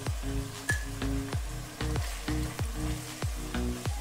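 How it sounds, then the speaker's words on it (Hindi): Mutton sizzles in a pan over full flame, a steady close hiss broken by regular thumps and scrapes of a spatula turning the meat, roughly every half second, with no voices. "मटन को हम 5 से 10 मिनट फुल फ्लेम पे इसी तरह अच्छे से भून लेंगे।"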